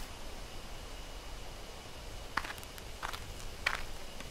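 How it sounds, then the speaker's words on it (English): Approaching footsteps in the game Death Mark, a few faint crisp steps landing near the end over quiet hissing ambience, sparse and soft. "I hear footsteps again."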